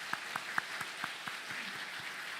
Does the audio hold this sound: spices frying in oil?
no